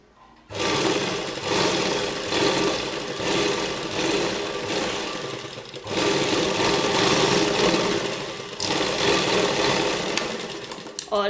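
A sewing machine runs a seam on a comfortable pregnancy dress, starting after a short silence and then whirring steadily and loudly up close with a couple of brief breaks, no voices.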